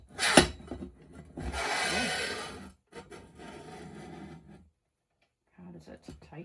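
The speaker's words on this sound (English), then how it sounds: "place the adjustable shelf on the post" Adjustable metal shelf of a GARVEE 5-speed DP0813ZM drill press sliding down onto its metal post, a sharp knock followed by a longer rasping, scraping slide, then a quieter rub and a brief pause before more faint handling.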